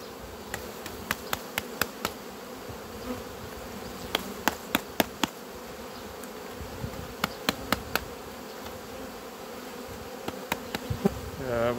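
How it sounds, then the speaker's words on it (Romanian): Honeybees from a shaken-down colony drone in a dense, continuous buzz close to the microphone, punctuated by repeated sharp clicks and taps from hive work scattered throughout. "Cu toată albina asta scuturată."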